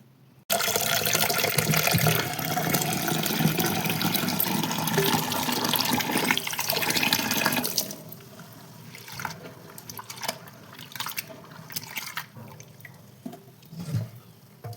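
Red lentils being rinsed under running water in a kitchen, a loud steady gush and splash for about eight seconds, then quieter trickling, drips and light sloshing of the wet lentils.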